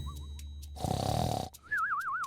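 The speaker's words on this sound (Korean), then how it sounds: "늑대가 나무 옆에 누워서 코를 골고 있었기 때문에 가지가 떨리고 있었습니다" A wolf snoring while lying beside a tree, rendered as a bedtime story sound effect: one loud, rough, rasping breath near the middle, framed by soft whistling tones on either side.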